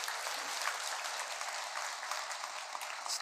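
Audience clapping at a Buddhist dharma talk, a steady wash of many hands sustained evenly throughout without breaks or voices.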